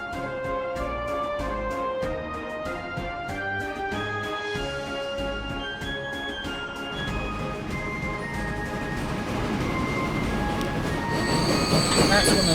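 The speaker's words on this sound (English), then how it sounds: "That's one of the Towson fuel trains." A fuel train rolls along the tracks in Transport Fever 2, with continuous rumbling wheels, rhythmic rail clicks and bright metallic squealing that grows louder and harsher toward the end.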